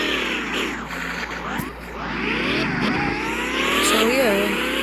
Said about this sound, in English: Easy with a perfect drift.